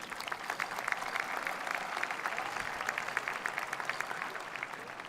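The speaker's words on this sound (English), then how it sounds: "So let's give the parents, grandparents," A graduation ceremony audience at Weslaco East High School applauds parents, grandparents and family, with steady, dense clapping from a large crowd carrying evenly through the whole stretch with no talk over it.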